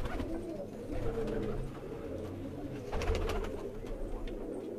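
A pearl-marked pigeon from a rooftop loft setup coos in low, soft rolling phrases close by, over faint background noise with no talking.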